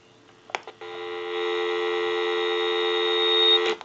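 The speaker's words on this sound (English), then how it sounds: "Give you some dial tone." A few clicks and clunks, then a steady electronic dial tone from a General Electric 6.0 cordless telephone holds evenly for several seconds before cutting off.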